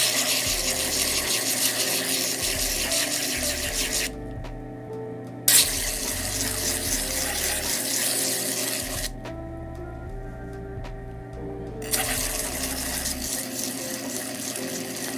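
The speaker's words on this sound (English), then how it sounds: "I'm gonna take it to some stones to polish it up" A Masakage Yuki kitchen knife being sharpened on wet whetstones, making a steady, loud, continuous grinding rasp in long stretches broken by brief pauses.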